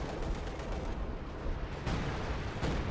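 A 105mm howitzer barrage in the Company of Heroes 2 strategy game rumbles steadily, with dense low booms and crackling blasts running throughout and a few sharper impacts standing out.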